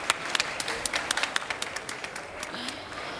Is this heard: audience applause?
yes